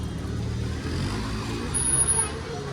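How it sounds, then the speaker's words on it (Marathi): An auto rickshaw passes on a village road, its engine a low steady rumble that swells toward the end amid general traffic noise, with people talking nearby. "हे बघ ही रिक्षा."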